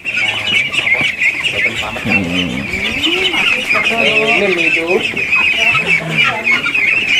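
A crowd of ducks in a pen on a duck farm quacks and squawks together close by, a constant chatter of calls over a steady high-pitched hum.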